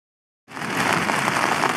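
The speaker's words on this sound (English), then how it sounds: "Just listening to that little pitter patter of rain on the fly sheet." Rain patters steadily on a tent fly sheet during wild island camping in wind and rain, a dense close hiss of drops starting abruptly after silence.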